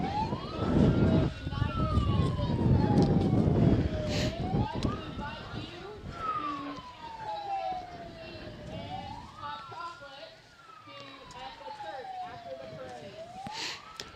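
A police car in a small-town Christmas parade in Steele, Missouri, rolls slowly past with its siren wailing in long rising and falling sweeps, loud and close at first, over steady crowd and street noise.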